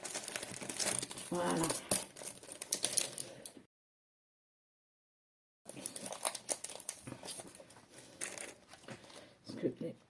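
Transparent stickers are handled with close, crisp crinkling and rustling of plastic in bursts, broken by a few seconds of silence, while a voice speaks briefly.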